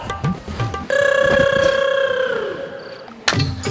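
A single sustained electronic phone ring tone sounds for about two seconds, nearby, with brief muffled noises before and after.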